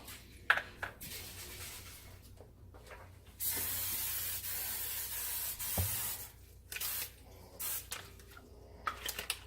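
Cooking spray hisses onto a 9x13 baking pan in a home kitchen, a few short bursts and one longer sustained spray, close and fairly quiet with small handling noises between.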